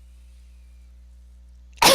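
A single sharp sneeze bursts out near the end after nearly two seconds of quiet low hum, loud and close.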